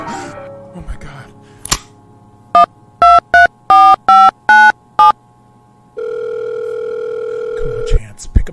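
A telephone calling tone: a short burst of dialing beeps in quick succession, then a steady ringback tone held for about two seconds, with brief voices and rustling around it.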